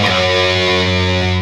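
Electric guitar with heavy distortion playing a sustained chord, loud and dense with rich held harmonics ringing for the whole short span, no voices.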